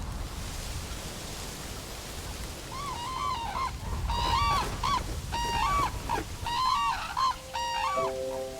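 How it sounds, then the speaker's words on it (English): Red-crowned cranes call in eastern coastal wetlands, a series of loud bugling honks starting a few seconds in and repeating irregularly over a steady hiss of wind or water. "Among the honored guests here are red-crowned cranes"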